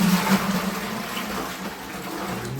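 Water poured by hand into waiting containers at a small maize farm in Kenya, a steady close splashing and gurgling stream running throughout with no talk.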